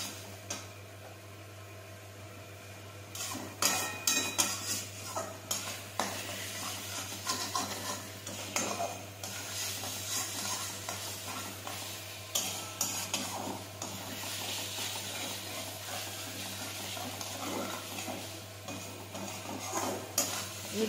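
Egg tarka masala being stirred and fried in a pan, with steady scraping and clinking of a spoon against metal over a soft continuous sizzle, close and fairly busy throughout, with a low constant hum underneath.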